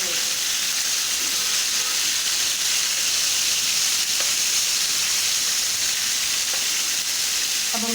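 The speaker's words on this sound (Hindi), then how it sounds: "अब हम इसको 3 मिनट नीचे से पका लेंगे अच्छी तरह से, ताकि हमारे पक जाए।" Folded Peshawari chapli kababs frying in a pan, giving a loud, steady, continuous sizzle and hiss up close with no pauses and no talking.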